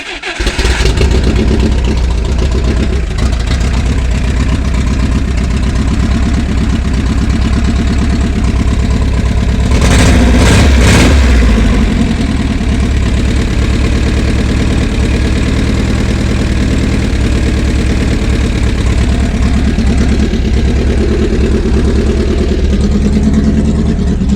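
Engine with no exhaust system fitted, running loud and raw throughout with a steady uneven idle and a brief rev around the middle, close to the microphone and alone.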